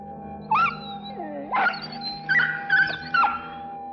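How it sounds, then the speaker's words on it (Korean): A small frightened dog whimpers and lets out several high, strained yelps and whining barks in short bursts, close and loud over a steady low hum. "강아지가 끙끙거리면서 옆으로 넘어져 버렸어"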